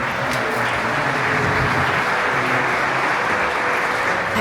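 Audience applause at a sold-out concert: dense, sustained clapping from a large crowd, loud and even throughout, with no gaps and no voices standing out.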